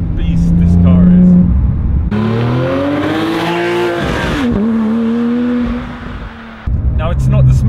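A Porsche 997.2 GT3 on a test drive revs hard and loud, its engine note climbing and falling through several sweeps with a brief lift and dip before surging again, heard from close by.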